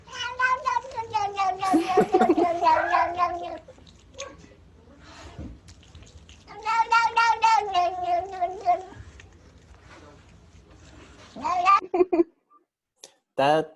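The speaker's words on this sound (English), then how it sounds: "I also have a cat video for anyone who is more of a cat person." A cat meows in long, drawn-out, sing-song cries, several in a row with pauses between, fairly close and loud.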